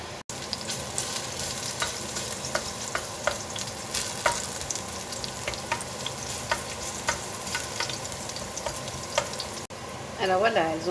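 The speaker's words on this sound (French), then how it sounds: "maintenant que l'huile est chaude, on va y verser les échalotes et on va les faire revenir" Chopped shallots fry in hot olive oil in a saucepan, giving a steady, close sizzle with crackling pops throughout, plus a few brief stirring scrapes near the end.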